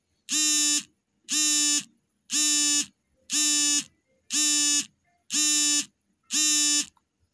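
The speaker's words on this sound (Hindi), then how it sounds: "सॉरी फॉर नॉइज़ अलार्म बजने लगा है मॉर्निंग का है ना तो उसकी वजह से ये थोड़ा सा नॉइज़ आ रहा है" A morning alarm clock buzzes loudly in seven evenly spaced, harsh electronic bursts, each about half a second long, with short silent gaps between them in a quiet room.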